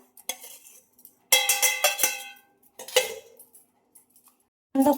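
Roasted grated coconut is tipped into flaxseed in a pan and stirred, making bright metallic clinks and scrapes of a spoon against the pan. The clatter comes in short bursts separated by quiet pauses.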